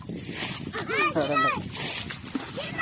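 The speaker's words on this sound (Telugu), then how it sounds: "ఈ గుంట్లో నీళ్ళన్నీ చల్లి చేపలు పట్టాలంట" Water splashes and sloshes repeatedly as it is bailed out of a pond to catch fish, while children's voices shout and chatter over it.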